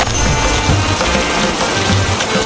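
Heavy rain pours steadily outside a woodcutter's house, a dense, constant wash of close, loud hiss with no voices over it.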